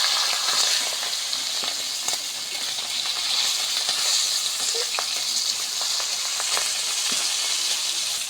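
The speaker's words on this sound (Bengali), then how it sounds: "মাছটা আমরা উল্টে দিচ্ছি, দেখুন এক পাশ হয়ে গেছে, কত সুন্দর করে ভাজা নেওয়া হচ্ছে দেখুন" Fish frying in a pan gives a dense, steady, close sizzle with crackling spits throughout, plus a few faint clicks as the pieces are turned over.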